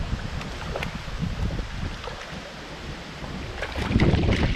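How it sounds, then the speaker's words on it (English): Wind blowing steadily outdoors during fly fishing for rainbow trout in early fall, a constant roar of gusts buffeting the microphone that swells louder toward the end, with no talking. "There's that wind, guys. I apologize."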